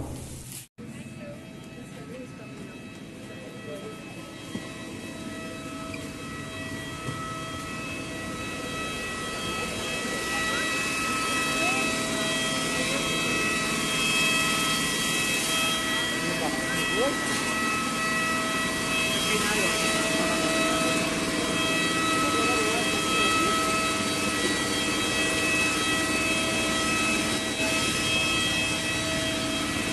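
A jet airliner's engines hum steadily and grow gradually louder inside the aircraft just after landing at Guwahati airport, following a flight from Kolkata. A voice speaks briefly over the drone.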